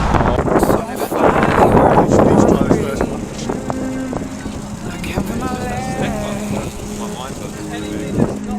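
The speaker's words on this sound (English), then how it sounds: "That wind is horrific." Strong wind buffeting the microphone at a bike park on a windy November day, a loud rumbling roar under a rider's talk.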